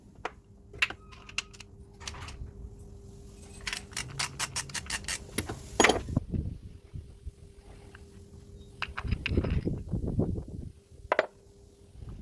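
A ratchet wrench works on a 10mm bolt of a 2010 BF Falcon engine, producing quick bursts of close clicking mixed with clunks and handling noise.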